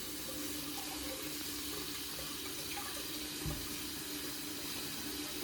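Tap water running steadily into a kitchen vessel to soak tamarind, a continuous soft splashing flow heard alone at low level.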